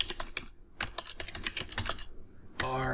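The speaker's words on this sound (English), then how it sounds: "if I highlight this and just type something else" Text typed on a computer keyboard while working in Adobe Illustrator, with a run of quick, close key clicks in uneven rhythm, followed by a brief burst of other sound at the end.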